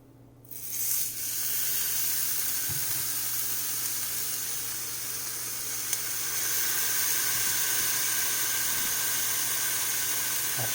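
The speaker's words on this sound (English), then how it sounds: "Let's move it over to the frying pan." Wild boar burgers sizzle steadily in a hot frying pan, a constant bright hiss that starts abruptly and holds evenly, with no talking.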